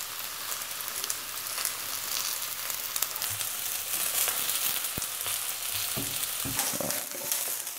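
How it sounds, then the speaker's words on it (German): Champignon mushrooms frying in a pan, cooked vegan without butter, crackling and sizzling steadily up close with scattered sharper pops and occasional stirring, no voices present. "Und da drin brate ich die Champignons an."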